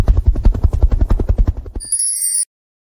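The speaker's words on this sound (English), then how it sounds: "Helicopter." Rapid rhythmic thudding of helicopter rotor blades, loud and close, fading out before a brief high tonal chime at the end.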